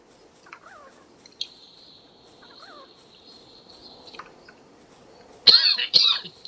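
A chicken creature in the video game Palworld clucks and squawks, with soft calls early on and two loud, harsh bursts near the end over quiet game ambience.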